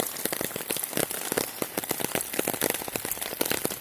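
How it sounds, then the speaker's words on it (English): Steady rain falling outdoors near a roadside storm drain, a dense continuous patter of drops on surfaces with no talking. "It's coming down pretty steadily and supposed to rain all day."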